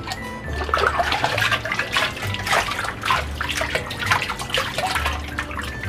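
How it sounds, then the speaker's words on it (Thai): About three and a half hundred grams of molasses dissolves in 100 litres of water for worm-casting fertilizer, with continuous splashing, stirring and trickling water close by, fairly loud and without speech. "เดี๋ยวเราจะมาละลายกากน้ำตาลกันนะครับ"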